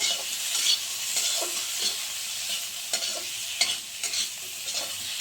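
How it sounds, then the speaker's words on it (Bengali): Spoon stirring aair fish curry ingredients as they fry in hot oil in a home kitchen, with a steady close sizzle and repeated scraping strokes throughout. "এখন একটু ভালো করে নেড়ে চেড়ে"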